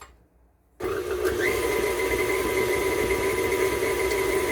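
An electric mixer blending egg yolk and vanilla into toffee bar batter kicks on abruptly after a quiet moment, then runs with a steady whirring motor hum and faint rattle, no talking.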